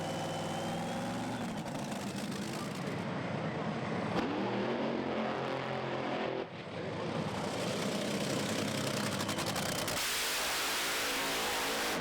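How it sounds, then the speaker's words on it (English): Drag racing cars firing up their engines at Santa Pod during the FIA FIM Main Event, a loud, continuous engine roar that fills the whole stretch with rough, surging revs and no clear pauses. "The OK to fire up the next pair is given Anita Mäkelä and Liam Jones."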